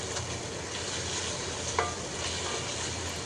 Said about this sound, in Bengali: শুটকিটা দেওয়ার পর একটু কষিয়ে নিয়েছি